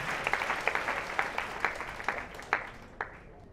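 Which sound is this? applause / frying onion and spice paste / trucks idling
applause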